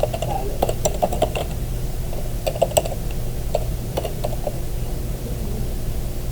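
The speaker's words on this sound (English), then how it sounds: "Then I'm going to type my name right here." A computer keyboard is typed on in short irregular bursts of crisp key clicks, close and clear over a steady background hum, with no one speaking.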